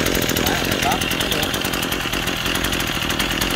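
A Japanese Robin engine-powered pesticide sprayer runs steadily, its small engine giving a continuous loud buzzing drone with a fast pulsing rhythm, close by and without pause.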